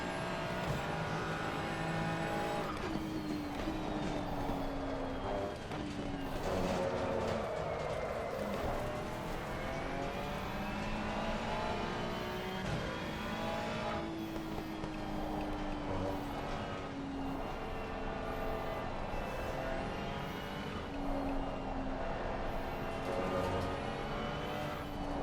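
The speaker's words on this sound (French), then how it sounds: "There's a car exiting pit lane." A race car pulls out of pit lane in a racing video game, its engine droning steadily with rising and falling pitch as it accelerates, loud and continuous throughout with no talking.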